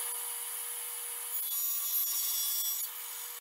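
Steady hand saw cutting mahogany boards to size, a continuous rasping, scraping stroke held for a few seconds, close and fairly quiet with no talking.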